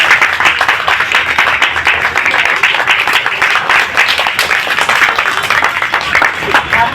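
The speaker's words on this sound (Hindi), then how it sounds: "मेरी दोनों बहनों के लिए भी एक बार जोरदार तालियां" A crowd at a street school celebration claps loudly and continuously, a dense rapid patter of many hands lasting the whole stretch, with a few voices faintly mixed in.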